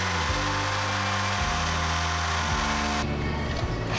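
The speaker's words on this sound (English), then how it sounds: "We use it to drill pilot holes from the top to make sure they're accurately placed in relation to the bar." A drill fitted with a 90-degree angle bit bores pilot holes for a Hard Dog roll bar in a Miata, a loud close whine that drops and steps in pitch several times as it bites.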